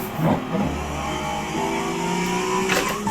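Simulated car engine in Forza Motorsport 7 revving hard on track, tires sliding, with a gear shift around the middle and revs climbing again, loud and continuous throughout.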